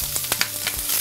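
Chicken thigh and drumstick fillets fry in a very hot pan for teriyaki, a close, loud crackling sizzle with sharp spitting pops.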